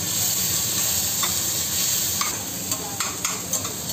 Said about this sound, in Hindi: तो चावल फ्राई होने वाला है